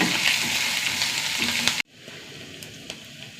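Onions with curry leaves fry loudly in a close, dense sizzle for about two seconds, then cut off abruptly to a much quieter, faint crackle with a few soft clicks.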